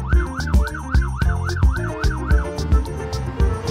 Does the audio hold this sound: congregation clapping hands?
no